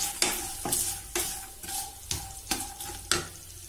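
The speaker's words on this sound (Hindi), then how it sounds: "मूंगफली सौते हो गया है, अब मैं इसमें ड्राई फ्रूट्स ऐड कर दूंगी।" Peanuts and dry fruits sautéed in a pan over a medium-low gas flame, heard as regular stirring scrapes about every half second over a soft, steady sizzle, close and moderately loud.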